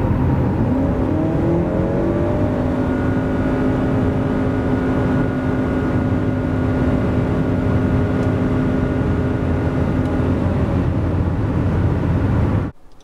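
Honda CR-V 2.0 hybrid car, 184 hp, 2023 model, accelerating from 90 to 140 km/h: a steady engine drone with rising whine, heavy road and wind noise throughout, loud and continuous, no talk.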